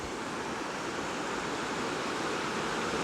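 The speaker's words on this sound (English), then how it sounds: "It's very shallow, as you can tell, as the water goes over these rocks," Shallow river water running over rocks and spilling into a small waterfall, a steady full rushing wash with no pauses or voices, close to the stream.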